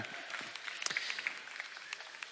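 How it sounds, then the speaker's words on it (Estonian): Soft, distant clapping from an audience at an award ceremony for a young mechanics competition at a motor fair, a faint continuous patter with a few sharper claps standing out. "teeme juhendajatele veel ühe aplausi"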